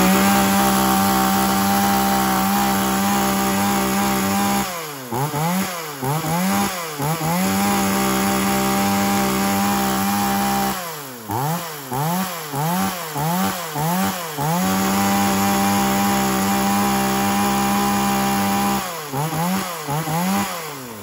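A used Japanese chainsaw engine runs loud and close, holding a high whining idle and repeatedly revving up and down in quick bursts.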